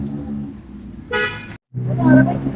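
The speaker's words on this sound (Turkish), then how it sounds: "Evet araç geldi şu an." In Bangkok traffic a ride-hailing car pulls up amid steady engine rumble, with bursts of car horns honking nearby and people talking over the road noise.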